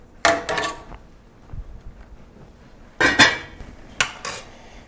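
A spoon stirs tomato basil mushroom soup at a boil, knocking and scraping against the metal pot in a few sharp clattering bursts with quiet gaps between them.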